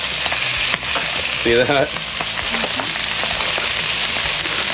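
Rice frying on a hot Blackstone griddle, with grains jumping off the surface: a steady, dense sizzle that carries throughout, with a brief voice over it.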